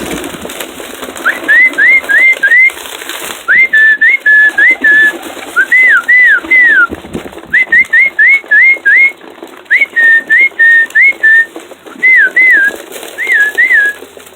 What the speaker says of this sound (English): Yeah, good birdies.